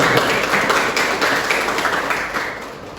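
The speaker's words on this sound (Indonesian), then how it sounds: "Tepuk tangan untuk Hidian Anda." Students in a classroom clapping for a classmate, a brisk burst of many small hands that stays fairly loud and gradually eases toward the end.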